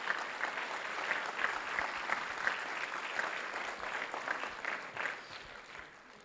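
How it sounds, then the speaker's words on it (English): Crowd at a Mule Day liar's storytelling contest applauds the adult contestants, a soft, dense wash of clapping from a distant audience that holds steady and tapers off toward the end. "let's give all those adult contestants a big round of applause."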